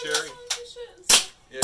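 A restomod Daisy air gun fired at an outdoor range, giving two sharp, loud, close pops spaced about half a second apart after a brief spoken voice at the start.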